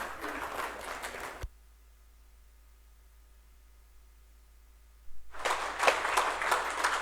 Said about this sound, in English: I request Shri R.D. Prabhakar sir to kindly bring along Srimati Sujata Prabhakar ma'am on the stage, please. A round of applause.